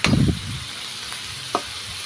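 Smoked fish and bitter gourd stirred in a frying pan: a scraping stir up front, then a steady soft sizzle with a couple of light utensil taps, close and alone.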